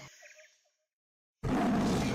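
A tiger roars once with a deep, rough growl that fades out, followed by a silent gap and then a loud, steady broadband rush of sound.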